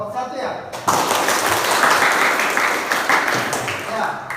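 After a brief spoken word, a classroom bursts into applause for a student group, a dense, close wash of clapping that holds steady to the end.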